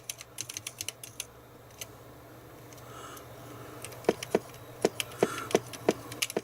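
Typing on a ZX Spectrum 128k +2 keyboard, a close, dry plastic clatter of irregular key presses in quick bursts, with sharper, louder taps toward the end over a faint hum.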